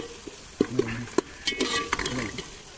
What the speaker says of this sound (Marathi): असे तेलात पूर्ण फ्राय करून घ्यायची